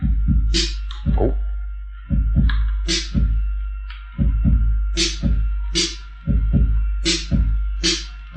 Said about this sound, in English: Now we just put in the snare, and the snare usually plays on 2 and 4